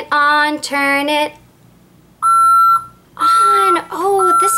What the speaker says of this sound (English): this means that the truck is backing up